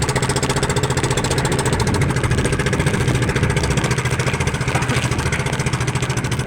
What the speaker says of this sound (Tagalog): Pangit ng tunog ng makina natin